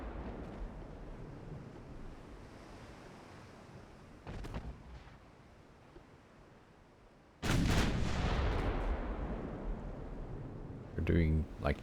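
Naval secondary guns fire in the warship game Ultimate Admiral Dreadnoughts, heard as a muffled boom and then a louder roaring salvo over a constant sea-and-engine rumble, with a voice talking underneath.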